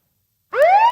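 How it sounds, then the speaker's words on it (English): A police siren effect played from a soundboard: a single loud, rising electronic wail that begins abruptly partway through and sweeps upward in pitch before cutting off, heard alone. "And then blue is police sirens."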